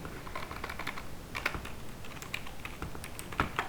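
Rapid clicking of computer keys as a C program is typed, a steady run of close, fairly loud keystrokes with a few sharper taps and no talking.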